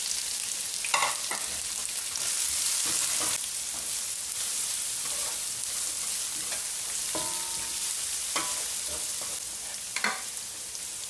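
Garlic, onion, ginger and red chili fry for Arabic-style beef kema, a steady close sizzle with scraping stir strokes and occasional clinks of a utensil against the pan, no talking.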